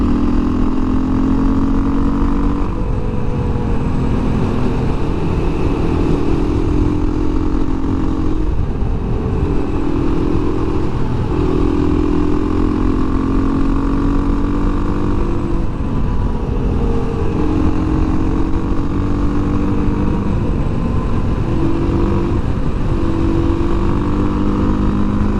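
A 2017 Beta 500 RR-S motorcycle on knobby tires, loaded with a moose in the back, rides along with a loud continuous engine drone that rises and falls in pitch through repeated throttle changes and gear shifts, with wind rush throughout.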